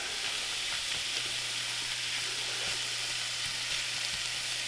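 Steak frying in a pan, a loud, continuous close sizzle with a few light scraping taps, no talking.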